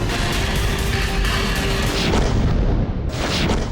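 Missile strikes pounding Kyiv, including near a metro station, come as a dense, continuous roar of booms and blasts with rumbling low end and crackling bursts throughout, loud and sustained with no speech.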